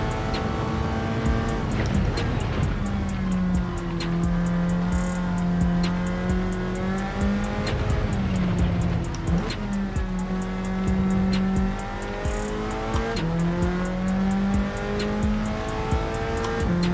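In Gran Turismo 7, a car drifts with a sustained engine drone and long wavering tire squeals, the pitch sliding up and down as the car holds its slide, loud and continuous throughout.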